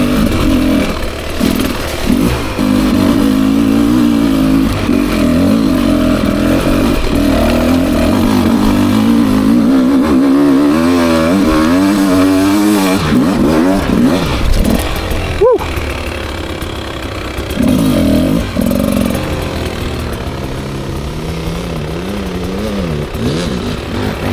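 A 2024 Beta 300 RR Race Edition two-stroke dirt bike is ridden up steep ground, its engine droning and revving steadily with rising and falling pitch, close and loud throughout, with no talking.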